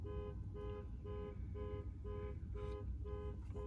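A car alarm goes off outside in the early morning, a distant, faint repeating tone pulsing about twice a second steadily over a low background hum.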